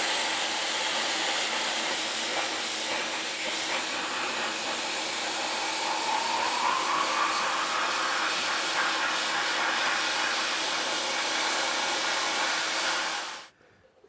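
Metal being cut on a Ford F100 frame to notch it for a Mustang S550 IRS subframe swap: a steady, loud, harsh hiss and whine held for about thirteen seconds, then cut off abruptly.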